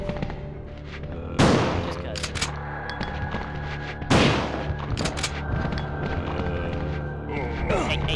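A shotgun fires twice in Resident Evil 2, loud booming blasts about three seconds apart, each ringing out over a steady backdrop of game ambience and music.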